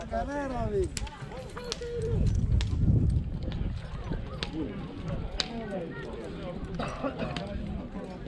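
Hooves clip-clop in uneven steps as pairs of horses move about a fair in Gura Putnei, with voices talking nearby over the busy crowd.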